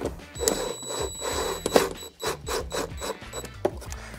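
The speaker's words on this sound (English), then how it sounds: "Now it's just thin plastic you're screwing into, so you don't want to overdo it." A screw is driven into a thin plastic speaker mount with a hand tool, giving close, repeated rubbing and rasping turns with small clicks, steady and unhurried.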